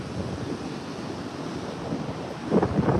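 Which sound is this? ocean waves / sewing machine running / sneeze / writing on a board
ocean waves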